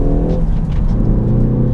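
Ford Focus ST engine pulling in second gear under acceleration, a steady loud low drone with a rising tonal hum throughout, heard from inside the moving car with no talking.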